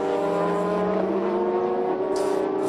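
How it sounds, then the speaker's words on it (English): Lexus SC430 GT500 race car with a 500-horsepower Toyota V8 roaring steadily at Motegi during a Super GT 300 km race, a loud sustained engine drone with shifting pitch. "500 horsepower pushing out from the Toyota V8 underneath the Lexus SC430 hood"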